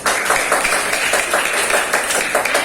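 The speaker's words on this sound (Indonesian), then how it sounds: "Oke, tepuk tangan dulu untuk kelompok." Classroom applause for a student group after a potato battery experiment, a short burst of many hands clapping close by, steady and fairly loud throughout.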